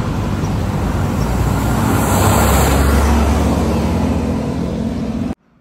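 Dense road traffic roaring past on Aguinaldo Highway heard from the roadside while walking, a loud continuous wash of car, bus and truck engines that cuts off abruptly at the end.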